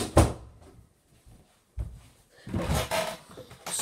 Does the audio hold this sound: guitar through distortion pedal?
no